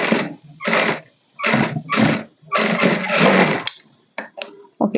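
A sewing machine runs rough stitches along a blouse side seam in loud close bursts of motor whir and needle clatter, each lasting about a second, separated by short pauses.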